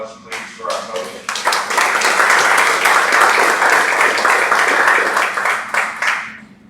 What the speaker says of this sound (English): Can we have a round of applause, please, for our host?